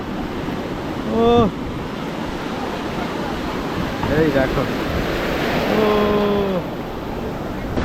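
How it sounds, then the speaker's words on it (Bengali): Big ocean waves break at Puri beach, a loud, continuous roar of surf with gusts of wind on the microphone. A voice speaks briefly over the crashing water. "পুরীর সমুদ্রে কিন্তু প্রচুর ঢেউ, আর ঢেউগুলো অনেক বড় বড় বড় বড়"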